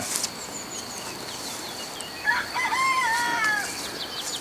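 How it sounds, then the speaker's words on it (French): A rooster crows at a distance over a vegetable garden with a pond below in June, a rising then falling cry lasting about a second and a half amid steady outdoor background noise and faint birdsong. "Le coq qui chante"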